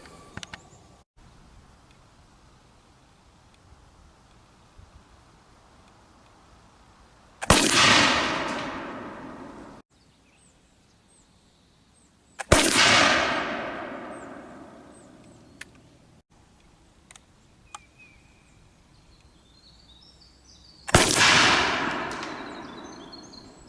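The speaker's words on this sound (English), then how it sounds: "3 shots at 45 yards with the Pedersoli Indian Trade musket using a .595 round ball" Three loud flintlock shots from a Pedersoli .62 smoothbore Indian Trade musket loaded with .595 round balls and 2F Goex powder, fired at 45 yards, spaced several seconds apart, each a sharp crack with a long echoing decay and quiet between.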